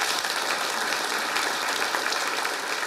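Studio audience applause at a German comedy show fills the whole stretch, a dense even wash of clapping close and loud with no voices over it.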